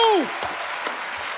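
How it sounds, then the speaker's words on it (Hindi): A TV comedy show studio audience applauding steadily, a dense wash of clapping that follows a short descending tone at the start. "तालियां बजाते रहें।"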